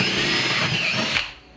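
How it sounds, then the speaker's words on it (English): A power drill fitted with a 5/16 bit bores a hole at the top of a lamellar slanted saddlebag on a Harley Softail Street Bob, a steady close whine that holds for over a second before cutting off. "I'll drill my second hole at the very top"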